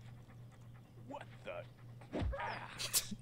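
Dog in the video game Postal 2 panting and whimpering, ending in sharp yelps and a bark, close and loud, with someone speaking briefly over it.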